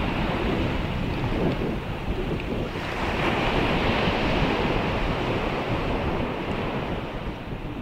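Ocean surf washes continuously onto a beach, a dense roar of breaking waves with wind buffeting the microphone, steady and loud with no voices.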